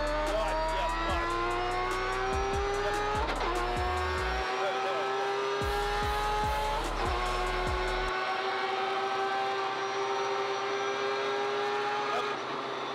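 A 500 hp Mazda RX7 race car with a 20B rotary engine accelerates hard on a track, a loud, continuous rising engine roar heard from on board with thumping low-end pulses, and a voice coaching over it.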